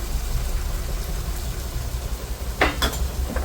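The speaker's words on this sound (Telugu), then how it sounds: "వేసుకొని బాగా కలుపుకొని కాసేపు మగ్గనివ్వాలి." Goat fat curry with chili powder and salt being stirred in a pot, a steady low cooking rumble with a few short scraping clinks of the spoon against the pan near the end, no talking.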